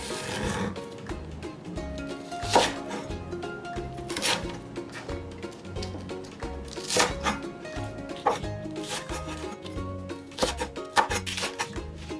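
Green onion being chopped into small pieces on a board for steamed Chinese pork buns, a steady rhythm of knife taps alongside sharper, louder chops.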